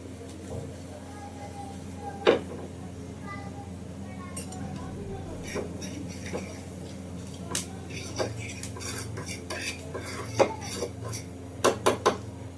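A utensil stirs red chilli powder and spices in a metal pan, giving scattered scrapes and sharp clinks at an irregular pace over a steady low hum, while a person talks at times.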